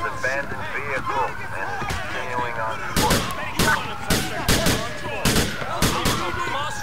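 Gunfire in the video game GTA IV: a string of sharp shots at irregular intervals, some close together, over a wailing siren and people talking.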